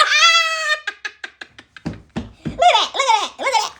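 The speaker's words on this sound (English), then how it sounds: "Look at that cat drinking that milk." A cat gives a long, loud meow followed by a run of short, rapid chirping meows and a few drawn-out yowls, close and clear with no talking.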